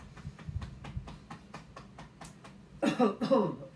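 A series of soft rhythmic clicks or taps, followed by a couple of close, harsh coughs near the end.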